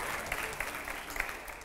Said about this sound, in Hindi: जोरदार तालियां हो जाए पहले